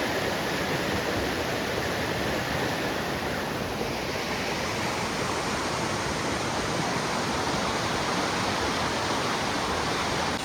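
A fast-flowing river roars in a dense, continuous rush of water that holds at a steady, loud level from start to finish, with no voices.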